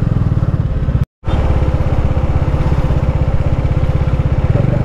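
A Bajaj Dominar motorcycle engine thrums steadily and close while riding past stalled trucks in a four-lane highway traffic jam, with a brief dropout near the start.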